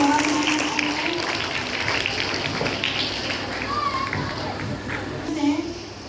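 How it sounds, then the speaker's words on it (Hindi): Steady applause from a school crowd with children's voices mixed in, continuous and fairly loud throughout, for seventh-grade participants in a speech competition. "एक बार सभी 7वीं कक्षा के प्रतिभागियों के लिए आप लोग जोरदार तालियां बजाइए"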